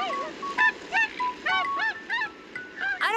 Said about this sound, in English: And listen to these tundra swans.